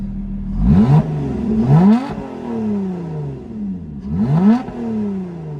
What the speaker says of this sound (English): I love the exhaust tone on this car.